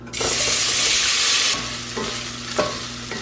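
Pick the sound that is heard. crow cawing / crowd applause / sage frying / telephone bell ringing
sage frying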